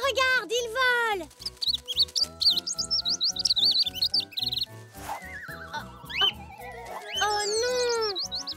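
Bright, high cartoon chirps and tweets from a baby bird come in quick bursts, rising and falling, mixed with whinny-like calls and lively background music.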